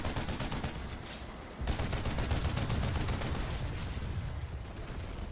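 Rapid automatic gunfire in the online shooter Planetside 2 rattles on for several seconds, loud and dense, and grows heavier partway through with no speech over it.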